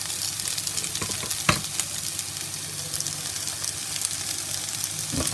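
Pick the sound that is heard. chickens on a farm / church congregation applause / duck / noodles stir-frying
noodles stir-frying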